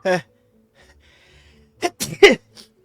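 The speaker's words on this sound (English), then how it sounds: "I have to sneeze." A Genshin Impact game character gives a short breathy sound, then after a pause lets out a quick gasping sneeze sequence, close and clear against near silence.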